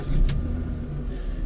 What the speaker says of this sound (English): We'll take our key and we'll start the car.